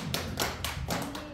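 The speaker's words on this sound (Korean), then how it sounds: "주님께 영광 박수 드리겠습니다." A church youth congregation claps rhythmically after the Lord's Prayer, about five evenly spaced hand claps, close and clear with no talk.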